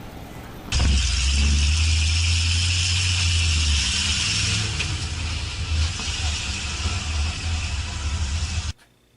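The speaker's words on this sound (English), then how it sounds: "Just a car with a bike and a horse trailer" A car towing a bike and a horse trailer drives past, its engine a loud, steady rumble that holds for several seconds and then cuts off abruptly.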